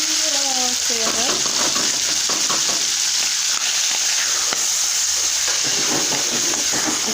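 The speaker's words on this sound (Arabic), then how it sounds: "نقليها مليح ومن بعد نخلطها مع البصل" Food frying in a pan for a Mawlid holiday meal, later mixed with onions, gives a steady, close sizzle with stirring scrapes throughout, and a voice hums or speaks faintly near the start.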